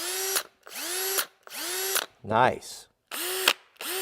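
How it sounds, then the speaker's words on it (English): Milwaukee cordless drill whirring in repeated short bursts, each spinning up and cutting off, with a rattling ratchet-like clatter between runs and a brief spoken word. "Milwaukee has a more of a precise sound. The gears sound better."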